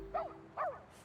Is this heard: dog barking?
yes